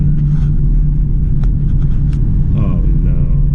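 Interior engine drone of a 2015 BMW M235i while driving, with synthesized engine sound piped into the cabin; a loud, steady low rumble fills the clip, with brief voices and a short tonal sweep near the end.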